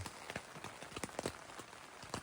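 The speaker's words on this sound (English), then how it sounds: "the rain's picked up now." Rain patters on the fabric of a hot tent on a windy night in the mountains, a faint, irregular scatter of soft drops with no voices.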